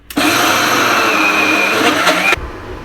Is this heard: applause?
no